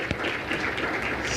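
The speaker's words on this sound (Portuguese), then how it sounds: "This applause is for homeopathy" Seminar audience at a homeopathy event clapping together, a dense, steady wash of many hands heard close up without any break.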